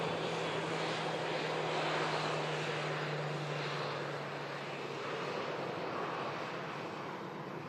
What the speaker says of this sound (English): get this giant aircraft back on the move